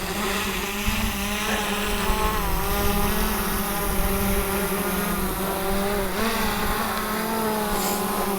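Powervision PowerEgg X drone motors spinning up and lifting off in a light winter snowstorm near a car, a steady buzzing whine with layered tonal harmonics that holds level and close throughout.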